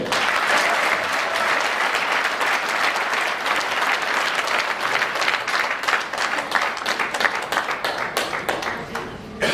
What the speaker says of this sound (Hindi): तो अपनी तालियों से बता दो ना एक बार